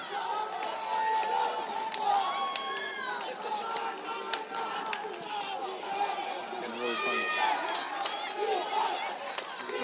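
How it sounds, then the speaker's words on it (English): Sideline crowd at an 8th grade football game cheers and shouts, children's voices and chatter rising over one another amid scattered claps, with a brief spoken phrase mixed in. "The sideline here, cheering again."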